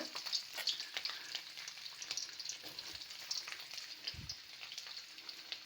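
Ginger and garlic fry in a pan, with a soft continuous sizzle and scattered crackles and a brief low knock partway through, heard up close with no voices.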